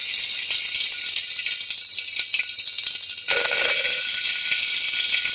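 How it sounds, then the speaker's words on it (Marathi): Mustard seeds, cumin and ginger-garlic paste sizzle steadily in hot oil in a pressure cooker for masala bhat, a bright continuous crackling hiss with small pops, growing a little louder and fuller partway through as more goes in, with no talking. "तेल चांगलं गरम झालं की त्यामध्ये मोहरी, जिरं, आलं लसूणची पेस्ट"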